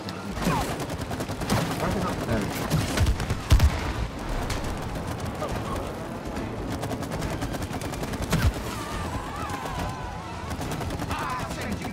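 Rapid bursts of gunfire from the video game It Takes Two crackle in quick volleys with a few heavier hits, while voices talk over the action.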